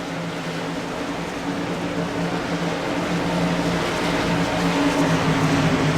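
Race cars in the Sportsman Series at Daytona drone under green-flag racing, a steady dense engine roar that grows slightly louder as the pack nears.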